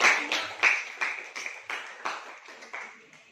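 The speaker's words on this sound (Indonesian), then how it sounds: "kita beri aplaus dulu" Clapping for a group in a classroom, about ten claps in a steady rhythm from a small number of hands, close and fairly sharp, fading slightly toward the end.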